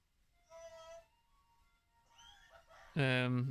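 A cat meows from the Path of Exile: Heist video game trailer, with two soft, tonal meows followed by a louder, drawn-out close-up yowl at the end.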